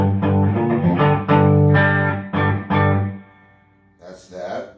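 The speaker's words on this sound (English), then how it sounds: "So now let's put the compressor on and the ODR Mini to push." Electric guitar played through a compressor and an ODR Mini overdrive pedal, a loud sustained overdriven tone with strummed chords ringing out in bursts for about three seconds, then decaying to a quieter tail.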